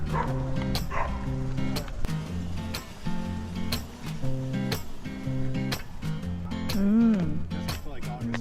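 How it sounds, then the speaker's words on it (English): A small pet dog yaps and yips in short bursts, sitting under continuous music with some voices mixed in, the barks fairly close but partly masked. "Doggy's barking."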